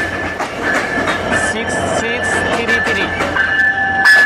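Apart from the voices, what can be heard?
Panchagarh Express train entering Natore station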